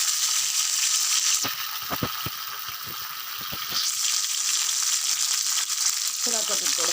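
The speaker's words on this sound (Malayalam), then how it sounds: "ഉണക്കമുന്തിരി കഴുകി വൃത്തിയാക്കി വെച്ചിട്ടുണ്ട്, അതിട്ട് കൊടുക്കാം" Raisins fry in a hot pan for payasam with a loud, steady sizzle throughout. Scattered clicks and scrapes from stirring sound close by, and no one speaks.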